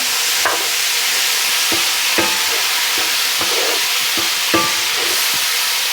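A hot pan gets deglazed with a splash of white wine while bratwurst cooks, giving loud continuous sizzling with the regular scrape and knock of a spoon stirring. There is no talk.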